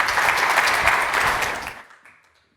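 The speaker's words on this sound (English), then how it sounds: "Round of applause for Nick, please." An audience applauds at a Federal Vision 2030 event, steady clapping for about two seconds before fading quickly into silence.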